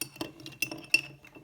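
Ice clinks against glass as a Negroni of Campari, vermouth and gin is stirred, with a few soft, close taps and chinks spaced irregularly over a quiet background.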